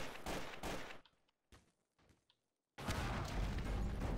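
Bomb blasts in Garry's Mod TTT: a loud rumbling burst of explosion noise, a near-silent gap broken by a few short thumps, then another heavy, sustained roaring blast that fills the end.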